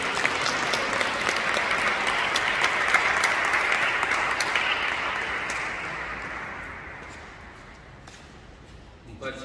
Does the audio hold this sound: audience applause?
yes